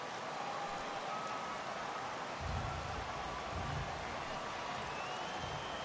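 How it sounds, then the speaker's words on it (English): Rain falls steadily in the MLB The Show 18 baseball game, a constant hiss of heavy drops with a faint crowd murmur underneath, growing slightly louder partway through. "the rain starting to intensify here. It's coming down a little heavier now."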